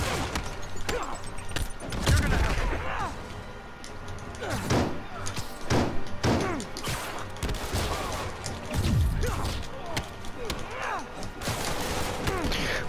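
Gunfire and impacts in the video game Marvel's Spider-Man: bursts of shots, thuds and crashes recur across the stretch over a dense, continuous game soundtrack.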